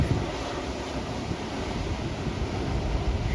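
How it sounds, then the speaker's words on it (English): Ocean waves crash against a rock wall along the Maroubra to Malabar coastal walk, a constant heavy roar of surf mixed with gusty wind buffeting the microphone. "It sounds like something smacking against the wall, like the power of the waves"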